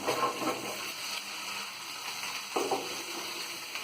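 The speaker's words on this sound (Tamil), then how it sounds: "இது கொஞ்ச நேரம் நல்லா வதங்கணும்." Okra added to sautéed onions in a pan for vendakkai puli kulambu, giving a steady, moderate sizzle with a couple of brief stirring scrapes, no voices.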